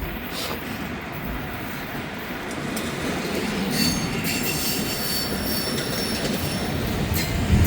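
A train rolls steadily past on a mild day, a dense rumble of wheels and rail noise with high metallic squeals and scrapes from the wheels throughout.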